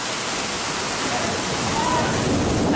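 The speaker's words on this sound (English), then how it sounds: "Look at these waterfalls." Desert waterfalls at Ein Gedi pour during a rain and hail storm, a loud unbroken broadband rush of falling water that stays steady throughout and sounds close.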